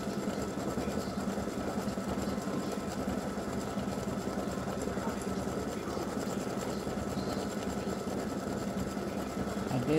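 An embroidery machine stitches free-standing lace for a gingerbread house ornament, giving a steady, fast, even mechanical chatter that runs close and unbroken throughout with no talk.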